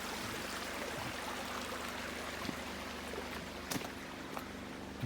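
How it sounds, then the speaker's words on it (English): A small creek still flowing in northern British Columbia, a soft steady trickle and gurgle close by, fairly quiet and unbroken, with no voices. "we got a nice little creek here, which is still flowing"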